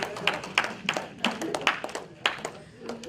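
Church congregation clapping together at a Sunday thanksgiving service, a series of sharp claps in an uneven rhythm with voices murmuring beneath.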